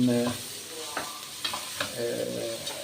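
Onions frying in a pan and being stirred, with a soft sizzle under scraping and tapping of a utensil, close and moderately quiet.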